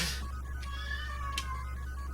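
A cat meows in the retro video game Target Earth, a thin drawn-out electronic meow with a couple of short clicks, quiet over a constant low hum.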